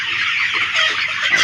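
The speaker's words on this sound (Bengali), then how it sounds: "এখানে প্রায় 3000 মুরগি।" Layer hens in a poultry farm of about 3000 birds cluck in a loud, dense, continuous chorus close by, with no talking.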